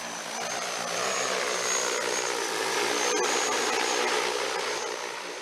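An agricultural spraying drone, fitted with a magnetometer for detecting mines, flies with a steady high whining buzz of spinning rotors, loud and continuous, swelling slightly as it passes near.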